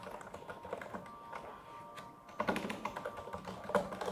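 Fast, irregular clacking of keys on a mechanical keyboard, close and clear, with a quieter stretch before a denser burst of keystrokes.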